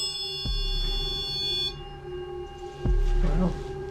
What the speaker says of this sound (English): Dead bell and the REM pod both going off.